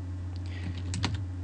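Quick, light keystrokes on a computer keyboard while code is being written, a short soft flurry of clicks over a steady low hum, with no talking.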